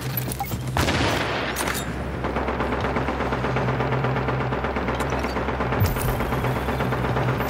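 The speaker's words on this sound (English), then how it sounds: "The fortification is now taking fire." Continuous gunfire and explosions in a video game as rogue agents assault a fortification, a dense, steady barrage of shots with a low rumbling hum underneath throughout.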